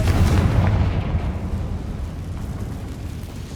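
A Confringo blasting-curse explosion in Hogwarts Legacy bursts as a loud, rumbling boom that fades over a few seconds.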